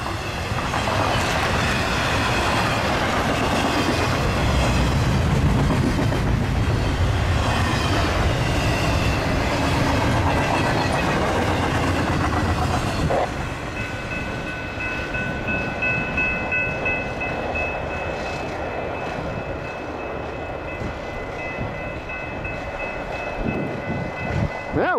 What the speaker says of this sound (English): westbound UP priority train.